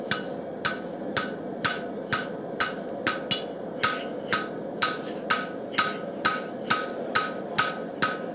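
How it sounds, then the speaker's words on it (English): Blacksmith's light hammer forging a utility knife blade on an anvil: a steady run of about fifteen sharp, ringing metallic strikes, evenly paced at roughly two per second, close and loud over a low shop hum. "it's not a heavy hammer, so it's not hard to do. You just speed it up."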